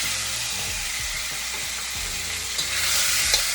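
Chicken sizzles hard in oil in a hot wok, a dense, steady crackling hiss up close, with light stirring clatter underneath.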